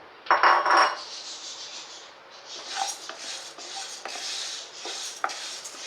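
Horse gram being stirred while it dry-roasts in a kadai: a loud rasping scrape of the spoon at the start, then steady dry rattling and scraping of the grains against the metal pan, with no voices.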